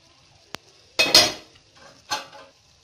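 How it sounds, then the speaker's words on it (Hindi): A metal lid is set onto a pot of mixed vegetable sabzi, giving a sharp tap, then a louder clattering clank and a shorter second clink, close up with no talking. "अब मैं फिर इसके ऊपर ढकना लगाने लगी हूँ"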